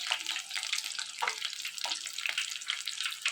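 Green chillies frying in hot oil for mirchi bajji, a steady bright sizzle with small crackles and pops running throughout, fairly close and continuous.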